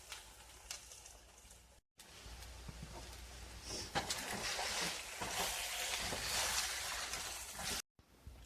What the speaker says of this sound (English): Now I'm going to add my eggs. And I'm going to go ahead and mix that around